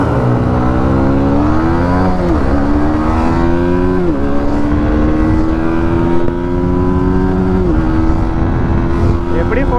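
Honda CBR150R and Yamaha MT-15 motorcycles race side by side in a road drag, engines revving loud and near in rising pitch sweeps as each gear change drops the note, a steady roar throughout.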